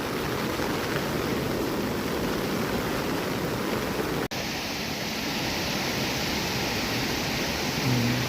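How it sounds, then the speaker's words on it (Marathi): Heavy monsoon rain with a swollen, muddy Konkan river rushing past, a dense, steady roar filling the whole stretch without letup apart from one brief dropout midway. "पाऊस खूप पडतोय सकाळपासून"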